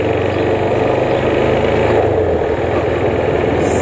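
A motorcycle engine idles close by in a steady, even rumble, holding a constant loudness throughout with no revving or pauses.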